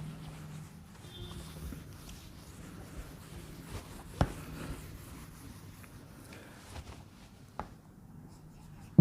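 Pen scratching softly on paper as a math formula is written out by hand, faint continuous strokes with a few sharper taps, close and quiet, no talking.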